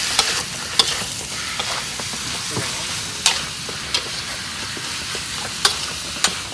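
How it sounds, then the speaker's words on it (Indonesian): Minced pork sizzles steadily as it fries in a pan, with sharp scraping clicks from the stirring spatula scattered through a constant crackle. "Goreng dia sampai ke masak-masakan."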